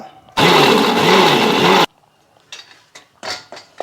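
A mixer grinder roars loudly at full speed for about a second and a half, grinding masala with salt for fish fry, then stops, followed by clinking and tapping of the jar.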